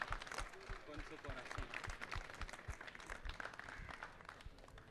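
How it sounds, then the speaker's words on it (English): Faint audience applause at a talk session on high jumper Javier Sotomayor, with a steady patter of claps and soft, rhythmic low thumps mixed with voices in the room. "Another round of applause, please."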